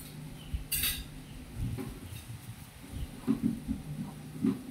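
A utensil knocks and scrapes against a bowl while embutido meat mixture is mixed with breadcrumbs. The soft irregular clinks and thuds are heard close, with no talking.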